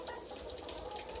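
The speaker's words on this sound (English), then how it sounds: "I'm going to refill their water" Water runs steadily from a tap while a chickens' waterer is refilled during farm chores on a 10-acre Indiana homestead, a soft, even splashing stream with no voices.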